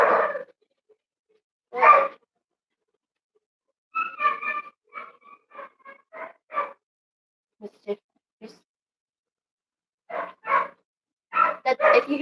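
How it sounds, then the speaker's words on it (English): A dog barks in scattered short bursts at a home during a livestream, single and double yaps separated by silences, moderately distant, with a few softer yips mixed in. "If you hear that dog barking"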